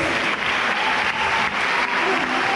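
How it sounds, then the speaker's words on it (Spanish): A theatre audience at a folk dance show claps steadily in a broad, dense wash of applause that holds at an even level throughout. "El aplauso para ustedes."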